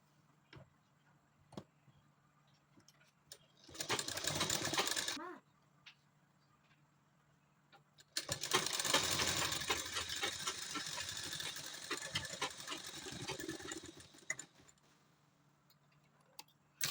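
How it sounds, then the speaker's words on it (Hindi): A sewing machine runs two bursts while stitching a half-inch seam on a fabric bag made from scraps, a short run followed by a longer steady whirr, with quiet clicks between. "सबसे पहले हम यहाँ पे एक स्टिच लगा लेंगे आधे इंच का।"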